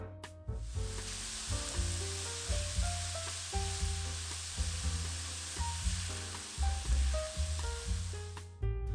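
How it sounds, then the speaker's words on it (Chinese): Hand-chopped minced pork filling stir-fries in a pan with onion and garlic, giving a continuous close sizzle marked by repeated spatula scrapes and tosses; a faint tonal hum runs beneath. "简单的翻炒几下，立马放入肉馅，手切肉馅好一些，肉粒饱满。"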